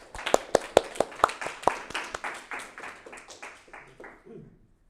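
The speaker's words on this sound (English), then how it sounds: "Round of applause for him, please" Audience applause for a student at a beginner Python coding workshop, a burst of separate hand claps that starts sharp and close, then thins and fades out over about four seconds.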